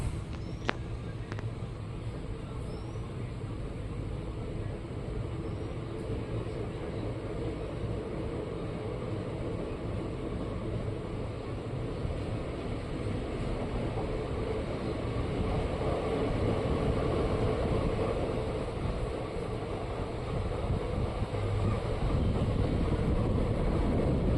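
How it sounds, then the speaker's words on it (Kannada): A steady low rumble of a passenger train departing Sisuvinahalli station between Bagalakote and Hubballi, continuous and fairly loud, with wind buffeting; no voices. "ನಮ್ಮ ಟ್ರೈನ್ ಈಗ ಸಿಸುವಿನಹಳ್ಳಿ ರೈಲ್ವೆ ಸ್ಟೇಷನಿಂದ ಹೊರಟಿದೆ"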